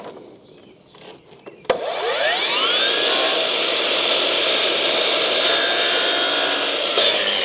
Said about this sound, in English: I'm going to cut the riser, and I'm going to overcut it a little bit